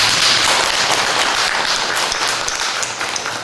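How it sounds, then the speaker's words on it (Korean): A church congregation at a Sunday service claps together in a loud, dense, continuous burst that holds steady and then eases slightly toward the end. "박수 한번 볼까요? 같이?"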